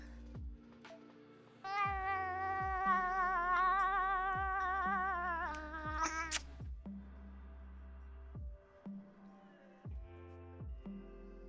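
A cat meows in a long, wavering, drawn-out cry, then falls quiet, with some soft thumps and handling noises around it.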